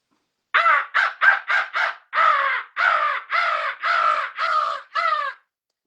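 A voice imitates a crow, giving eleven loud, harsh caws close up, five short quick ones followed by six longer drawn-out calls, with nothing else around them.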